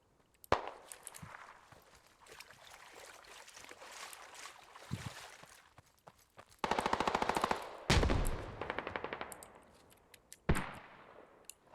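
Bursts of rapid machine gun fire crackle in a combat video game, with a long sustained burst and several shorter volleys among scattered single shots and quieter background rumble, fairly close and loud.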